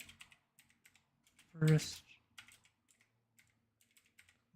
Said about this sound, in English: So I'm just going to type in a name.